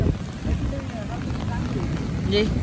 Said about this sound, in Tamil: காத்து மேல காத்துக்கு அலையில சுரட்டி எடுக்குது காத்து.